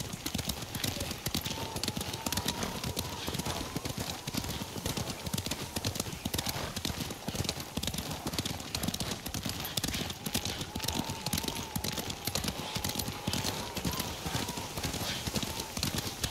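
Horses trotting in the samurai video game Ghost of Tsushima, a constant rapid clip-clop of hooves on the ground throughout, loud and close, with brief speech over it.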